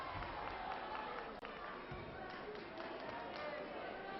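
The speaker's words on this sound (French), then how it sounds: "Applaudissements frénétiques d'un public éclectique" Frenzied applause and crowd noise from a wrestling audience fill the hall, a dense steady roar of clapping and chatter with brief cheering swells throughout.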